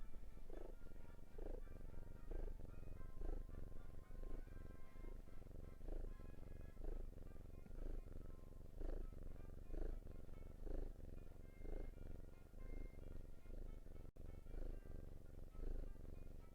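A contented house cat purrs steadily and close, a continuous low rumble with a soft rhythmic pulse of breaths, with no talk over it.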